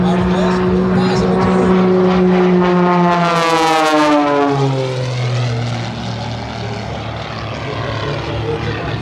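An Extra 300S aerobatic monoplane with a chrome-moly steel fuselage and carbon-fiber wing spar flies past at an airshow, its propeller engine droning loud and steady, pitch falling Doppler-style as it sweeps by, with a commentator talking over it.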